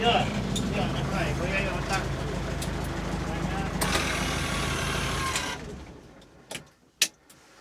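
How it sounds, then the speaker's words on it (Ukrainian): An old tractor chugs loudly close by as it moves off, then its engine noise cuts away, leaving quiet with a few sharp knocks and clicks. "старий трактор поїхав"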